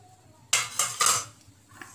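A spoon mixing spinach pakora ingredients in a bowl: three quick, close scraping clinks of metal against the bowl in a short burst, followed by quieter faint rustling.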